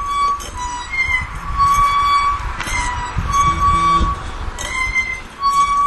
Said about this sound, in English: That's the sound of your squeaky old clothesline.